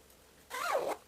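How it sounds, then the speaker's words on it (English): A zipper on a sewn summer dress is drawn closed in one quick, close, rasping pull lasting under half a second, standing out clearly against near silence. "I'm going to close the zipper so I can align the zipper placements on the opposite side of the center back"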